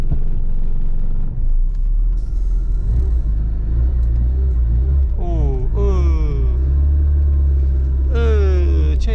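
An old Dacia car, started after six months standing on a farm, rumbles steadily and gives rising squeals and creaks as it moves. Loud low engine noise runs under people talking.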